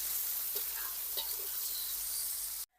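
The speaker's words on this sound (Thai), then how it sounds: "ตับที่เราหมักไว้ เทลงไปเลย" Marinated pork liver hits a wok with fried chili and garlic, a steady hissing sizzle with a few faint clinks of the utensil, ending abruptly.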